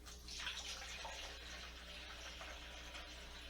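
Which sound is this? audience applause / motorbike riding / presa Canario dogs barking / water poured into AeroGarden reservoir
water poured into AeroGarden reservoir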